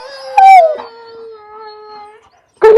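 A big dog lets out a loud, close howl that rises sharply, then holds a long, wavering tone that fades out, followed by a sudden burst of another sharp vocal sound at the end.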